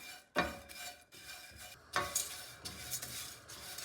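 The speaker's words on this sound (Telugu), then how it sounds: "అటుకులు కూడా మరీ వేగాల్సిన అవసరం లేదు, లైట్గా వేగితే సరిపోతుంది" Flattened rice (poha) stirred and lightly fried in a pan, giving soft scraping strokes of a spatula against the pan with a faint sizzle, close by and fairly quiet, with no talking.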